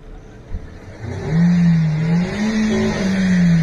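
A stuck car's engine revs hard and holds a sustained, wavering roar as it tries to drive out, rising after a brief low idle, heard fairly close with no talk.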